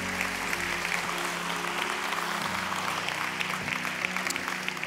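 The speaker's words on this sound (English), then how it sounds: "Can we give the Lord a round of applause?" A church congregation applauds after a closing prayer, sustained even clapping from a large crowd heard over a low background hum, with no talk.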